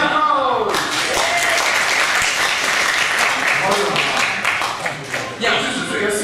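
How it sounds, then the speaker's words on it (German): Audience applause at a Miss CSD 2016 preliminary pageant round, a dense, steady roar of clapping that fills the whole stretch, with a voice talking over it near the start. "Ein Applaus."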